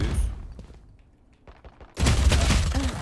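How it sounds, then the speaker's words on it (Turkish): A Raze grenade detonating in Valorant, a sudden loud broadband blast about two seconds in that holds as a dense rumbling roar, preceded by quieter scattered game sounds. "Buraya reizin bombası geldi."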